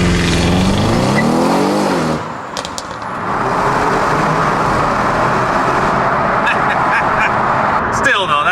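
An Audi RS7 roars through a tunnel, its engine and stock exhaust a loud, sustained drone that dips briefly partway through before building again, with faint ticks and pops near the end.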